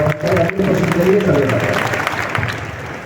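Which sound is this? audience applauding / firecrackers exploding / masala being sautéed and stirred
audience applauding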